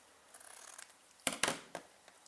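Scissors trim fabric seams during paper piecing in a quiet room, with soft cutting followed by a few sharper, close snips near the end.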